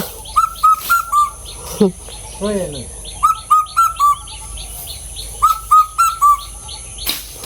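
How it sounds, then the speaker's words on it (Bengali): A bird repeats short whistled chirps in quick clusters, fairly close, with a few other calls and a faint voice briefly in between. "বাবা পাখিটা ডাকতেছে"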